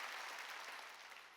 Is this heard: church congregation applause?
yes